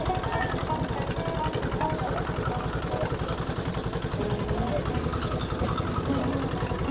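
A boat engine runs on the Brahmaputra river at Belab Bazar, Narsingdi, during a traditional boat race; the close engine chugs at a steady, even pulse throughout, with voices faintly in the background.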